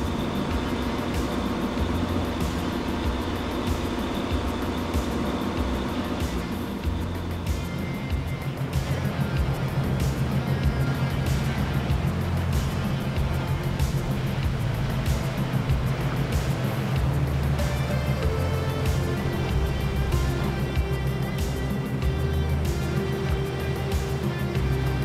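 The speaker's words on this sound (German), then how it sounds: "Hier im Maschinenraum sorgen zwei Motoren mit je 1000 PS für den nötigen Antrieb." Two 1000 hp engines of a fireboat in Düsseldorf harbour, also driving its fire pumps, fill the engine room with a loud, steady low drone and a thick mechanical hum that runs unbroken throughout.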